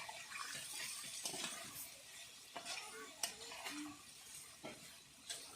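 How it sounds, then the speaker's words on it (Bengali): Potatoes fry in a pan for a children's feast, a steady close hiss of hot oil with intermittent clinks and scrapes as a utensil stirs them. "আলুগুলো লাল লাল করে ভেজে নেব"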